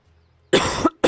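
One harsh cough sounds close and loud after brief quiet, then a second cough starts right after it.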